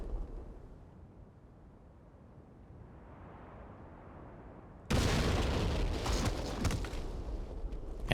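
Half-Life explosions with the Brutal mod: a low, quiet rumble builds for several seconds, then a sudden loud blast hits and roars on with crackling debris until the end.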